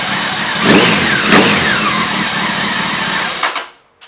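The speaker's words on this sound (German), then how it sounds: "Jetzt könnt ihr den Motor wieder starten." A motorcycle engine with a newly replaced timing chain tensioner runs close by, steady and loud with a couple of brief revs, then cuts off abruptly near the end.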